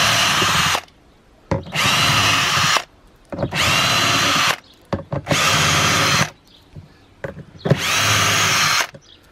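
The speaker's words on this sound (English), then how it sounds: "These are all 7mm bolts, so I'm just going to do it quickly with a drill." A power drill spins 7mm bolts on a motorcycle fuel tank in five loud, close bursts of whirring, each a second or so long, separated by short pauses with faint clicks.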